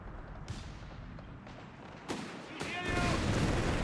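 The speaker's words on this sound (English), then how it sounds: "Good here withdrawing under heavy and intense German fire" Heavy German gunfire in a Company of Heroes 3 battle, with several sharp, close reports standing out from a continuous rumbling wash of combat that grows louder and denser toward the end.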